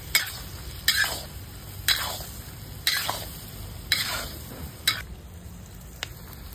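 Chopped mixed vegetables, including ridge gourd, cabbage, beans, cucumber, okra and radish, are tossed in a pan for a Ganesh Chaturthi dish. About six evenly spaced stirring scrapes sound against a soft sizzle, close and clear, with no talking.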